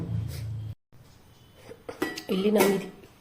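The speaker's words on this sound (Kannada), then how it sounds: "ಹೀಗೆ ಒಮ್ಮೆ ಚೆನ್ನಾಗಿ ಮಜ್ಜಿಗೆಯಲ್ಲಿ ತೊಂಡೆಕಾಯಿ ಚೆನ್ನಾಗಿ ಮಿಕ್ಸ್ ಆಯಿತು" Ivy gourd pieces being stirred into buttermilk in a bowl, with clinking and scraping of a utensil against the dish in short bursts, plus a brief low murmur at the start.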